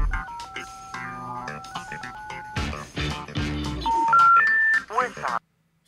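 A telephone number is dialed as a rapid string of DTMF keypad tones under ongoing conversation, followed by a brief rising sequence of beeps before the line goes silent.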